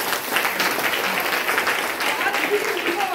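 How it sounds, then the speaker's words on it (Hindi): A crowd applauds loudly at a gathering about a poor woman who supports her household by sewing, a dense continuous wash of clapping with a voice faintly underneath. "जोरदार ताली।"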